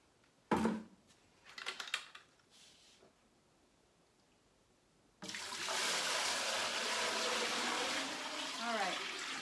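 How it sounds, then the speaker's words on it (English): Ceramic glaze poured from a container back into a big bucket, a steady broadband liquid pour starting partway through and running continuously to the end, preceded by a few brief knocks and handling sounds. "I think I'm going to pour it back into my big bucket so that I don't spill it"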